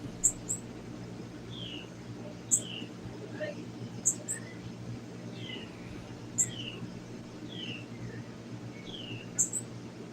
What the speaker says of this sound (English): I hear a bird chirping.